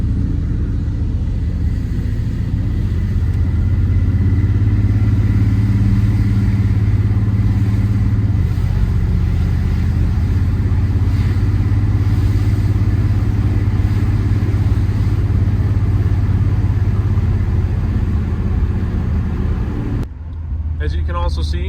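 A 454 big block truck engine, swapped to an LS ECM, idles and runs with a steady, loud low rumble that stays close throughout, with a slightly uneven, choppy texture, then drops off sharply near the end.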